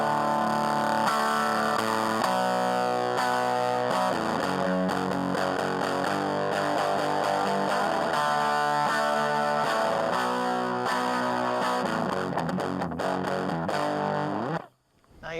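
An electric Telecaster-style guitar plays through a Danelectro HoneyTone mini amp with distortion cranked to maximum and volume around halfway, giving a loud, fuzzy, sustained stream of chords and notes that cuts off abruptly at the end.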